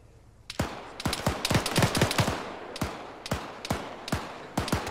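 Gunfire in the video game Arma 3, loud close bursts of automatic fire with a rapid run of shots followed by spaced single and paired shots.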